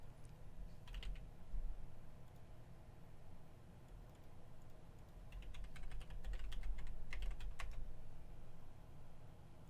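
Quiet bursts of typing on a computer keyboard, two short flurries of clicky keystrokes over a low background hum, faint and nearby.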